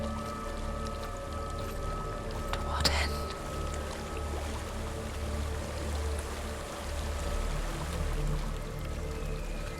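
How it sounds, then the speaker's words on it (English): Waterfall in Hellblade: Senua's Sacrifice, a steady broadband rush of falling water holding constant the whole time, with a low hum and a brief spoken line over it. "There's a waterfall."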